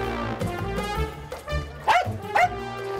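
A Maltese pointer male dog near a fishing shore gives short yips and whimpering barks, a few close bursts with two sharper yelps toward the end, no talk heard.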